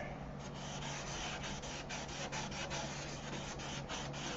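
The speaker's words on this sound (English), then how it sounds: "And the way to a shiny finish is right there, sandpaper." Sandpaper rubs steadily across an airplane surface in a continuous close scratchy hiss, pulsing faintly with each stroke, with no voices.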